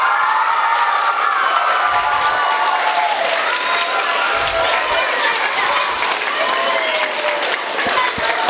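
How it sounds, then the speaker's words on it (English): A large audience at the 2015 Tropicana Competition bursts into loud, sustained applause with scattered cheers. The dense clapping holds steady for the whole stretch without letting up. "Let's give one more big round of applause for all of our candidates."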